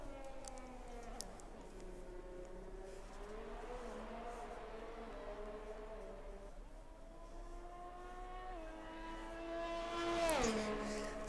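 An F1 car engine screams through a hot lap at Suzuka in a racing video game, its high whine rising through the gears with sharp shifts, steady and continuous, with a commentator talking faintly over it.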